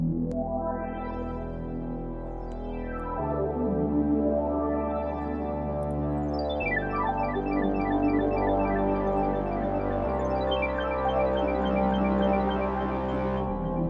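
A synthesizer run through the Beam plugin with parallel processing chains plays sustained, harmonically dense chords that shift roughly every three seconds, loud and steady throughout with no voices.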